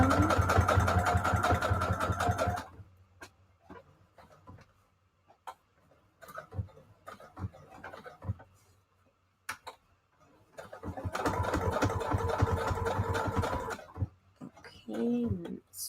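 Sewing machine back stitching a fabric tag for a junk journal cover, with a loud steady mechanical whirr of rapid needle strokes at the start and again later, separated by quiet clicks and handling.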